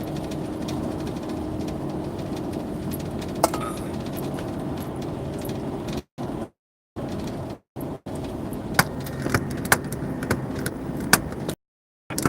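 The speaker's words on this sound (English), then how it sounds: "My fucking ladder's rattling in the back" An aluminum ladder rattles and clinks in the back of a vehicle driving toward California, faint metallic taps scattered over a steady loud road rumble inside the cab.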